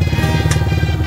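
A motorcycle engine idles and revs steadily close by at a crowded island port during a fiesta, loud and continuous, with a brief clatter midway.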